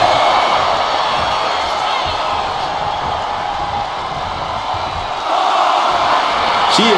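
A large wrestling arena crowd roars with a dense, sustained wall of cheering and yelling from a live WWE event, with a brief lull midway before the noise swells again.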